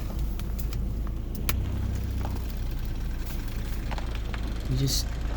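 A widebody Audi A4 in need of power steering fluid rolls down the road, a steady low engine drone and road rumble running throughout with a voice talking over it.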